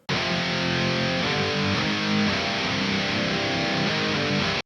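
Distorted guitar through an HM2 profile grinds out a thick, buzzy riff with scooped mids, steady and loud from start to finish.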